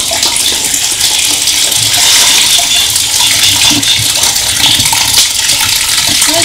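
Tap water gushing steadily into a pot of beans in a farmhouse kitchen, a loud continuous splashing rush that runs without pause and has no voices over it.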